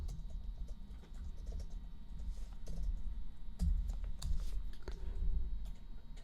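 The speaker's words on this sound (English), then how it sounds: "I swear, I'm usually good at typing, but it's harder to do when I'm recording like this." Typing on a computer keyboard while working in Max/MSP, heard as quiet, irregular clicks and patter over a low background hum, with no talk.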